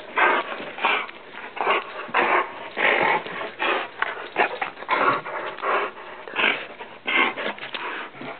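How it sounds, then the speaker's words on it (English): A dog growls low and whimpers in short, uneven bursts close by, with sniffing and restless noises between the sounds. "Yep, dog."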